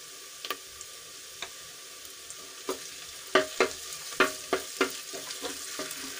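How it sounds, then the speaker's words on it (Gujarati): Ginger, garlic and chillies land in a pan of onions sautéed to light pink for aloo matar pulao, giving a soft sizzle broken by a series of sharp spoon clicks and scrapes against the pan, with no voices. "એક ચમચી જે આદુ લસણ અને મરચા હતા એ ઉમેરી"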